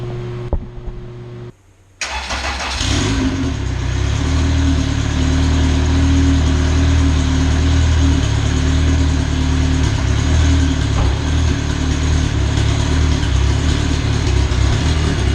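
Honda B-series engine in a car cranks briefly and fires up, then settles into a loud, steady idle close by with no talk over it.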